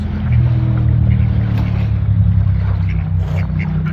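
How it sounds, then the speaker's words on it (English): A steady, continuous low rumble of engines from a road close behind, like traffic passing nearby, fills the whole stretch without a break, with a faint higher hiss above it. "I'm sorry about the noise from the traffic, because the road is right behind us here."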